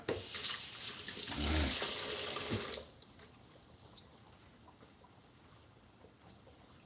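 A kitchen tap gushes water as a hand is rinsed under it, a loud steady splash for almost three seconds, then it shuts off, leaving faint drips and small clatters nearby.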